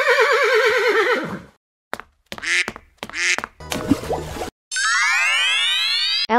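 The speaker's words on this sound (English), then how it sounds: "Zebra." A cartoon-style zebra call opens with a loud, wavering whinny, followed by quacky, bouncy bursts and a long rising whistle-like sweep, all loud and up close.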